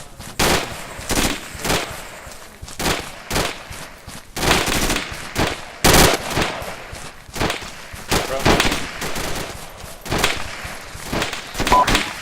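Section firing drill on a shooting range, with bursts of rifle gunfire cracking in irregular volleys and single shots throughout, some loud and close, others further off, while shouted commands carry over the shooting.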